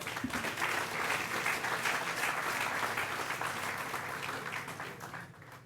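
Applause at an official 14 July ceremony, a steady crowd clapping, moderately loud and sustained for several seconds before tapering off near the end.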